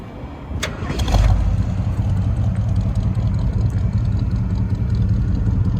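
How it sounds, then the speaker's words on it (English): A 1978 Ford F-150 Ranger pickup engine turns over and settles into a steady, rumbling idle, its deep exhaust note running continuously and fairly loud with no talking. "I do want you to hear that exhaust note"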